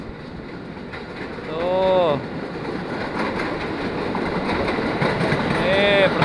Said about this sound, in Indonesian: Oh, ada kereta, guys.